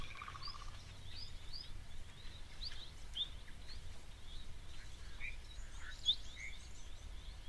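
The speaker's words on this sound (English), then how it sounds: "You can also hear like a starling like bird calling there in the background." A starling-like bird calls faintly in the background at a waterhole, giving scattered short chirps and whistles throughout over a low, steady outdoor hum.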